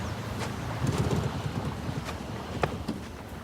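A small boat with a poorly tuned outboard motor gives off a steady low rumble, mixed with wind noise and water, plus a few faint knocks.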